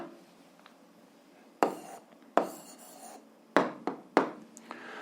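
Pen or pencil writing on paper during an algebra lesson: several short scratchy strokes in bursts, fairly close and quiet, with no talking.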